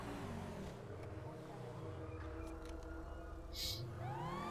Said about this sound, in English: So then you press E to enable your sirens.